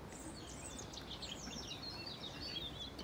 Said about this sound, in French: Je sais pas si vous entendez les oiseaux